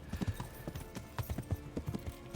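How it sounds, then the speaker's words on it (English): A horse in the medieval game Kingdom Come: Deliverance gallops with rapid, rhythmic hoof clops at close range, steady throughout without a clear whinny. "The horse will make, like, whinny noises when it's low stamina."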